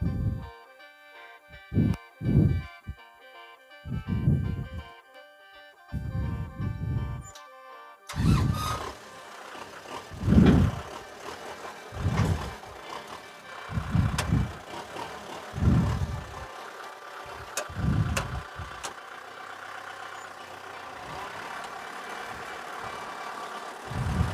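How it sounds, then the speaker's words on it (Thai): A diesel tractor engine, a Kubota M6040SU, chugs in rhythmic low bursts, loud and close, with a steady mechanical rumble underneath and no voices. "เดี๋ยวจะพามาชมไปดูการทำงานของรถไถคันนี้กันนะครับ"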